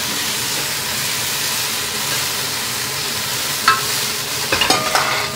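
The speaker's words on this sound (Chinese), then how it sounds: "啊，热热的油啊，用热的火去煎它，这样行了。" Red fish frying in hot oil in a home kitchen, a steady dense sizzle held throughout with a few sharper crackles and pops near the end.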